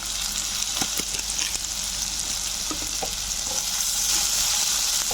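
Spinach and paneer masala sautéing in a pan, a steady close sizzle and crackle throughout with occasional scraping stirs.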